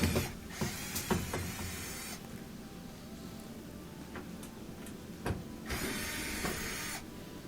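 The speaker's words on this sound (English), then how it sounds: "now we're removing these 3 screws from the bottom of the front panel." A tool works the screws out of the bottom of a Whirlpool washer's front panel, giving close mechanical whirring in bursts with sharp clicks and ticks between them.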